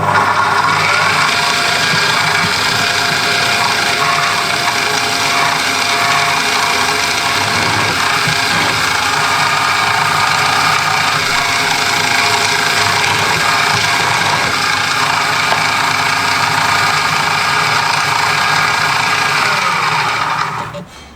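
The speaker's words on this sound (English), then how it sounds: "And now to countersink." A power tool runs continuously for about twenty seconds, countersinking holes in a wooden stropping board, its steady mechanical whine close and loud, with no talking, before it cuts off at the end.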